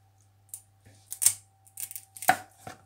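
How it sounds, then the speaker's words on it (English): Knife cutting the tail off a fish on a board, a few sharp, close chopping knocks spaced irregularly with brief scraping between them, over a quiet steady hum. "I'll just cut the tail away."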